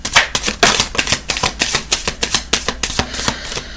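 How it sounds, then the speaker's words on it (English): A deck of cards is shuffled up close in a quick, rapid run of crisp riffling clicks and flutters, with no voices heard. "a few more shuffles."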